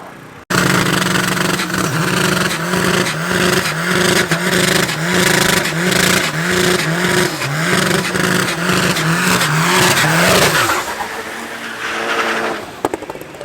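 A Mini John Cooper Works drag racing another car down a strip, engines roaring loud and close with rising gear-change steps, then fading away near the end.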